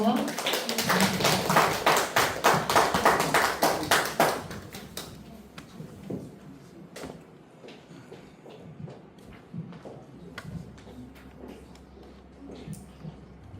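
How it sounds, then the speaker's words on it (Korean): Applause greets a visiting professor at a literary lecture at a university literature hall. Many hands clap loudly for about four seconds, then the clapping fades to scattered claps and small room noises. "교수님을 모시겠습니다. 큰 박수로 맞이해 주세요"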